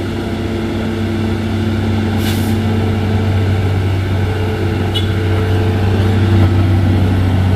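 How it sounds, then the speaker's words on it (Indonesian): An orange Fuso tronton truck idles on a hill climb at Bukit Kodok with a steady, close, low diesel drone, broken by a sharp air-brake hiss near the middle and a shorter hiss later. "Truk Fuso orange trontonnya."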